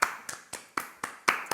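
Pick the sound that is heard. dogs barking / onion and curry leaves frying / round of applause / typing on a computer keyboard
round of applause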